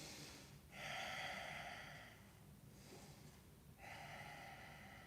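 Slow, deep belly breathing during a floor stretching exercise, heard close and quiet: two long inhale-exhale cycles, each drawn breath a soft airy rush followed by a pause, with no talking.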